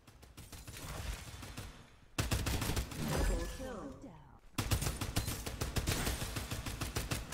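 Rapid burst-fire gunfire in the shooter game Farlight 84, loud repeated volleys of shots in quick succession, broken by a short pause mixed with a voice and game effects.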